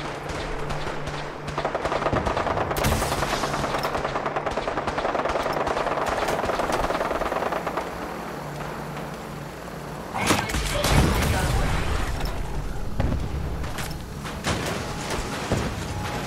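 Video game gunfire in Fallout 4, dense rapid bursts trying to down an aircraft, loud and sustained with thuds and a sharp blast near the end, some talk mixed in.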